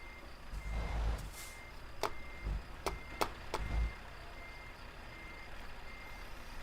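Truck reversing beeps in Euro Truck Simulator 2 sound as a short series of sharp, evenly spaced high beeps over a low engine rumble, fairly faint and alone.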